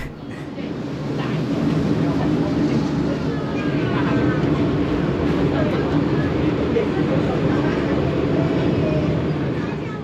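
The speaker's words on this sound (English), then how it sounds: "The Peak Tram is an uphill railway system." Steady low rumble and rattle of Hong Kong's Peak Tram funicular climbing its uphill track, with a continuous mechanical hum and faint squeals throughout.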